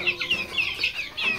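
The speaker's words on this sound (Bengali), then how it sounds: "এই হচ্ছে এখানে বুডিং করা ফার্মি মিশরি বাচ্চা রয়েছে, দেখতে পাচ্ছেন।" Young farm-raised Egyptian chicks cluck and peep in a short run of repeated high calls, fairly close and moderately quiet, with no talking.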